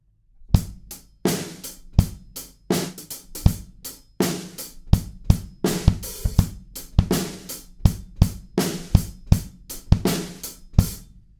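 A drum kit plays a steady chorus groove, with punchy kick and snare hits on a regular rhythm and bright cymbal strikes, loud and close.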